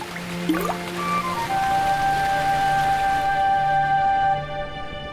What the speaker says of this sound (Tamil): மறுபடியும் மழை வந்துருச்சு